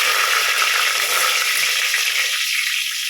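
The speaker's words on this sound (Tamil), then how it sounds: "கொஞ்சம் கருவேப்பிலை போடுறேன்" Steady, dense frying sizzle of curry leaves in hot oil with cumin, close and loud, with faint stirring scrapes and no talking.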